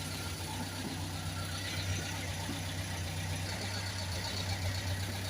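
A Simca Aronde 56 car engine idles steadily just after starting, a continuous low rumble with a constant mechanical hum, close and fairly loud, with no voices.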